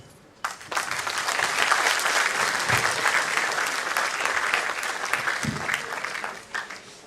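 Applause at a convocation ceremony for management graduates as they flip their tassels: a large audience bursts into sustained, dense clapping after a brief quiet start, loud and steady for several seconds before easing slightly.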